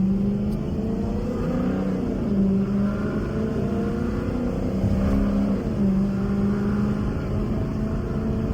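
An SRT car engine idles and revs loudly nearby, its pitch rising and falling in waves; no distinct pops or bangs stand out.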